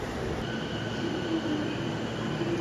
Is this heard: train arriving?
yes